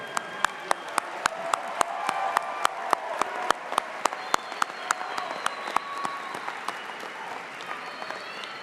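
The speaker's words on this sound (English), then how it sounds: "How about a big round of applause?" An indoor crowd at a university fall commencement ceremony claps in sustained applause, with a few sharp, loud individual claps standing out close by against the steady wash of hands.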